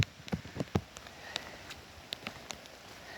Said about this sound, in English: it's going to rain until the afternoon